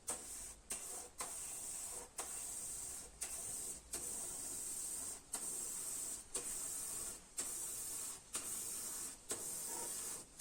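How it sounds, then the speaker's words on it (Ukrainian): Aerosol paint is sprayed onto a trailer in repeated hissing bursts of about a second each, separated by short pauses, steady and close. "Зараз такий як з балончика виходить."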